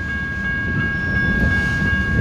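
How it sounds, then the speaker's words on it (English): A BNSF freight train made up entirely of tank cars rolls past close by at the N Street railroad crossing in Bakersfield, California, giving a continuous, even rumble of wheels and cars with no talking. "Oh, this is all tank cars."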